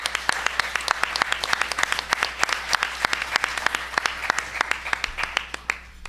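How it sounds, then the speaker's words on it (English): An audience at a panel event on inclusive leadership breaks into a round of applause, dense clapping that continues steadily for the whole stretch at fairly close range. "So I first wanted to just give a round of applause to everybody."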